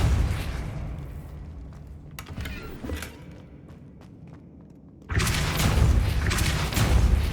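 The Depulso force-push spell is cast in Hogwarts Legacy: a sudden loud, broad burst that then sustains as a dense rumbling rush, following several seconds of quieter ambient thuds and footsteps.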